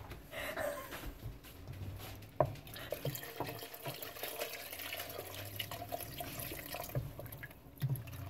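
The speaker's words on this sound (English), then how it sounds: "I'm adding your water a little bit at a time and putting your chili and spice in first." Water trickles and splashes a little at a time into a pot of chili powder and spices, faint sloshing and dripping with a few small clinks, no talking.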